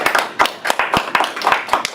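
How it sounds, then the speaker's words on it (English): A room of students claps in a loose, uneven burst of sharp hand claps, fairly close and steady for a couple of seconds with no talking. "Give yourself a round of applause, because let me tell you, that was hard work."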